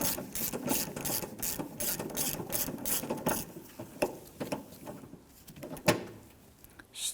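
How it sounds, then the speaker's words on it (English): Ratchet tightening hardware on a 2006-2010 Hummer H3 power steering pressure line, rapid clicking strokes in quick bursts, close and fairly loud, with a few pauses and small knocks between them. "let's go ahead and tighten everything down"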